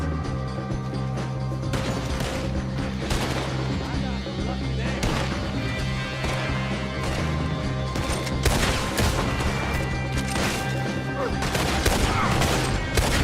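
Gunfire in the video game Red Dead Redemption 2 at a barn shootout, as repeated shots and crashes over constant background music and game noise, with voices talking throughout.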